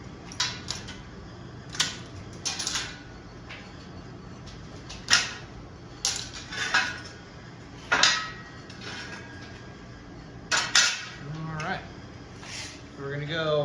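Metal clamps are pulled off a tacked steel utility cart frame in a workshop, giving irregular sharp clanks and clatters at close range. A person talks in between the hits.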